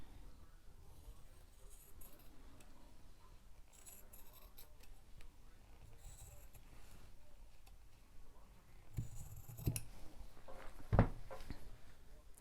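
Scissors cutting through dress fabric to shape a simple curved front neckline, a soft steady snipping and rubbing at close range, getting louder with a sharper clack near the end.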